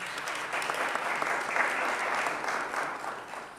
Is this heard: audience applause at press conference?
yes